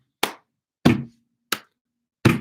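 Four separate hand claps, loud and close, evenly spaced roughly every two-thirds of a second with silence between them.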